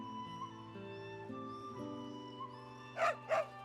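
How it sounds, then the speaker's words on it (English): A dog in the video game Fate/Samurai Remnant gives two quick, high yips near the end, one right after the other, over soft sustained in-game music. "This is a dog."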